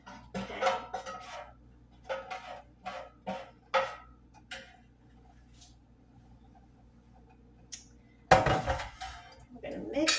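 Italian meatball soup stirred in a cooking pot, with a run of clinking utensil-against-pot knocks, then a louder burst of clatter near the end, under occasional talk.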